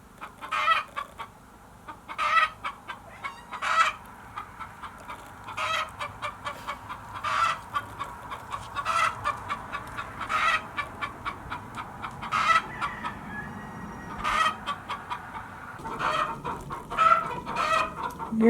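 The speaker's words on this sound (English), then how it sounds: "this indignation is about 3 hens want to use the exact same box at the same time" Icelandic hens cluck and squawk in loud, agitated bursts near a nest box, the calls coming in a repeated rhythm every second or so, close to the microphone.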